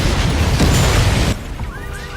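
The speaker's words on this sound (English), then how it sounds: "a massive explosion suddenly happened, destroying the ATM and killing the person instantly" A massive explosion destroys an ATM, a loud dense roaring blast that cuts off sharply, followed by quieter debris and faint tonal sounds.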